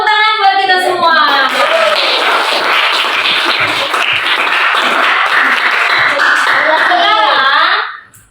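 A class of eighth-grade students clapping together in a classroom, loud continuous applause lasting several seconds with voices cheering and talking over it at the start and finish.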